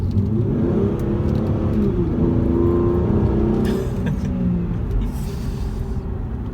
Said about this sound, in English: I don't get bored of the sound this car makes.